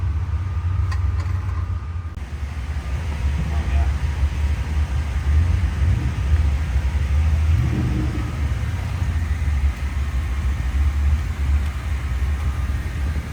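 A radial drag race car engine idles steadily while warming up on a hot track, a deep constant rumble close by, with people talking over it at times.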